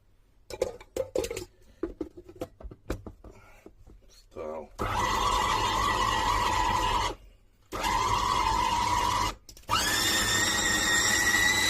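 An electric blender chops a meat filling with onion for belyashi, pies or dumplings, whirring loudly in three long bursts separated by short pauses, after a stretch of clattering and handling sounds.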